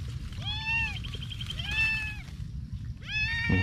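A cat meows three times in long drawn-out cries over steady low outdoor rumble during fruit picking, fairly close and alone without talk.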